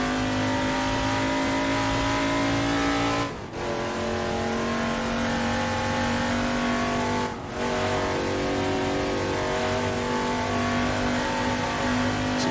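Touring car engine in the racing game Assetto Corsa on the Goodwood circuit, a loud steady high-pitched drone at sustained revs, broken twice by brief dips as the throttle lifts for gear changes.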